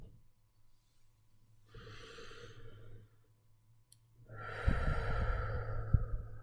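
A person breathing slowly in and out through the nose during a guided mindfulness exercise, two long airy breaths with a quiet pause between, close to the microphone, the second breath louder and stronger.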